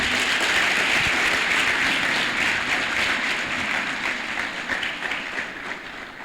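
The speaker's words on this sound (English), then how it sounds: "Can we please give her another round of applause?" After a guest lecture by the ZIALE director, the audience keeps up a thick wash of clapping that holds steady, then gradually thins and fades near the end.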